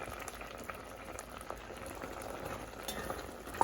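A steady crackling sizzle of mustard seeds frying in hot oil, dense and continuous, with small pops scattered throughout.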